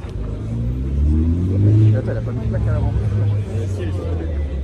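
An Aston Martin One-77 sports car's engine rumbles low and steady on a town square, close and fairly loud, with someone talking over it throughout.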